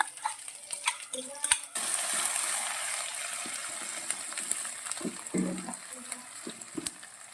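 Garlic-chili paste hits hot oil with whole spices in a pan, sparking a sudden, bright, close sizzle that keeps hissing steadily while a spoon clinks and scrapes against the metal now and then.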